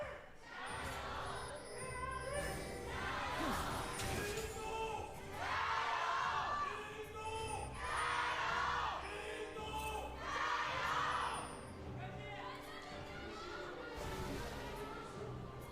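A large arena crowd at an LPL League of Legends esports match roars and cheers in rolling surges that swell and fade, a dense wall of distant voices with no clear speech.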